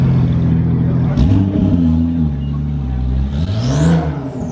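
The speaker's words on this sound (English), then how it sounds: "Turbo S just pulled up." A Porsche Turbo S pulls up nearby, its engine note rising in a couple of brief revs and a soft whir amid street noise at a gathering of street racers.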